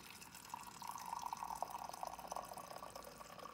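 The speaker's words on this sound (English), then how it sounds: "using the carafe, the glass, impact resistant glass there, we'll just make a nice pour here." Coffee is poured from an impact-resistant glass carafe into a cup from an insulated pour-over coffee maker, giving a steady, fairly quiet trickling stream that runs for a few seconds without talk.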